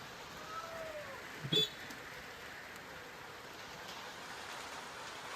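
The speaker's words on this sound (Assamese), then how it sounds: "বহুত বৰষুণ পৰি আছে, চাওক।" Steady heavy rain hisses throughout, a dense even wash of falling water with a brief louder splash or knock near the middle.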